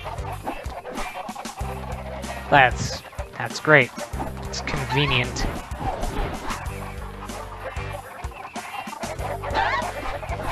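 Video game chickens near a stable cluck and squawk in short bursts, with a couple of louder cackles, while a person talks over them.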